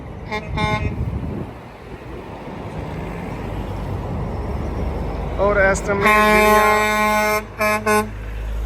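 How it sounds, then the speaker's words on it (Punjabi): Car and truck horns honk loudly in long blaring blasts and a few short toots over road noise during an Australian sheep farmers' protest convoy, with a person speaking briefly before them. "ਦੇਖੋ ਹਾਰਨ ਪਹਿਲੀ ਵਾਰੀ ਹਾਰਨਾਂ ਦੀ ਆਵਾਜ਼ ਸੁਣਾਈ ਦੇ ਰਹੀ ਹੈ"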